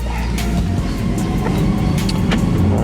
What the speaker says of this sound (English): we are in the Audi R8 V10 Plus, and we're going to give this a quick road test just to see how it compares to the Lamborghini Huracan